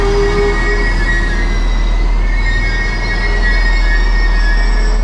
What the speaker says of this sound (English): we're gonna start the video with taking a look at the arrival of my train in Erkner.